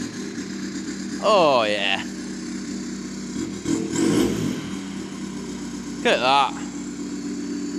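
Straight-piped 1.6 TDI diesel Volkswagen Polo starting and revving in loud bursts with a brief rough stretch between, while people talk and react close by.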